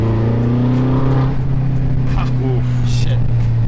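A BMW X5 M with an aftermarket Alibaba exhaust in sport mode gives a loud, deep, steady exhaust drone, with a brief rev blip partway through, while people talk over it.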